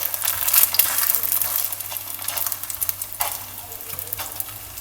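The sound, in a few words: parotta cooking on a pan over low flame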